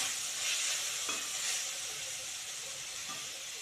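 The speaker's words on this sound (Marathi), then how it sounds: "चांगलं परतवून घेऊया।" Soybean chilli stir-frying with chilli powder and spices in a pan, a soft continuous sizzling hiss with a few faint scrapes of stirring, close but quiet, no voices.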